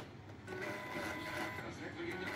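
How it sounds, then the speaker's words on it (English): A DTF printer's capping-station motor spins up and runs as a steady mechanical whir and hum after a brief quieter start, holding close and even throughout. "we can hear the motor starts spinning"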